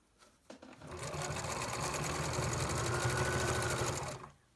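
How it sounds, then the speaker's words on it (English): A sewing machine runs in one steady, fast burst of stitching as elastic is sewn into a fabric face mask, starting after a few soft handling clicks and stopping abruptly near the end. "we go backwards a few stitches and then forward"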